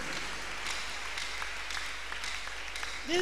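A congregation at a Tuesday miracle church service claps hands in a soft, steady wash of applause throughout, somewhat distant.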